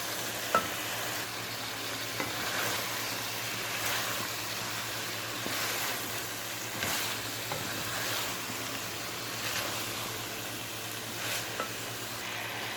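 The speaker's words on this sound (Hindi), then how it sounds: "अब हम इसमें फूल जो हैं वो भी शामिल कर लेते हैं और इसको अच्छे से मिक्स करेंगे" Cauliflower florets and potatoes are stirred into masala in a pan for a dhaba-style sabzi. A constant close sizzle runs throughout, broken by repeated scraping strokes of the spoon at a steady, unhurried rhythm, with no talking.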